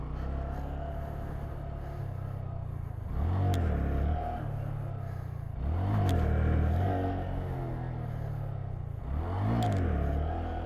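A Honda Grom motorcycle revs in three strong bursts of acceleration, each swelling then easing back to a steady idling rumble, heard close and alone.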